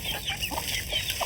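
Chickens clucking steadily at a Laotian family home, a continuous close chatter of short hen calls over a busy outdoor background.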